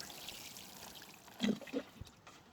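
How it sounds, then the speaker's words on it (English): Pea seedlings in container trays get watered in a garden, a faint, soft trickle and splash with a couple of brief louder pours and wind in the background. "I'm going to give them a good watering"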